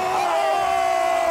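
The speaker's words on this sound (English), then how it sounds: "All the riders, everybody here is going wild." A crowd roars and cheers wildly at a UCI BMX freestyle park World Cup men's final in Bazhong, China, a loud, sustained wall of shouting and whooping filling the arena.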